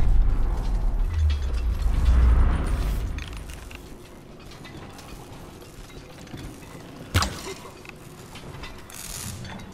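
A heavy generator is dragged along in Tomb Raider, grinding and ratcheting with a steady mechanical clatter, loudest and rumbling early on, then lighter creaks and clicks and one sharp clank.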